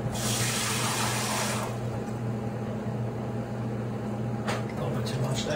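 Water pouring from a tap into a measuring cup, a bright, loud stream lasting about two seconds. A steady mechanical hum continues alone under it and afterwards.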